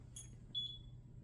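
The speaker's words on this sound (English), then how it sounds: "that's another timer going off for a different mechanism" Timer for a free flight model airplane mechanism going off: a couple of faint, thin electronic beeps, one short and one longer, over a quiet low hum.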